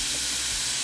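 A cutting torch making a quick cut in aluminum, a loud, steady, close hiss throughout the short stretch.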